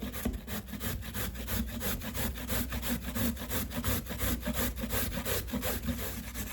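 Cocoa is grated on the same side of a grater used for potato, making a rhythmic series of rasping scrapes in quick, even strokes, close and moderately loud, with no talking.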